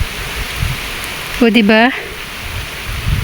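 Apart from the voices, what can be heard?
rain falling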